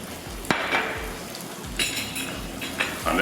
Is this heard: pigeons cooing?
no